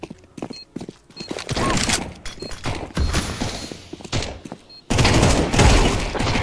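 Gunshots in a first-person shooter game ring out in a rapid sequence of sharp cracks and thuds, with a denser, louder burst of fire toward the end.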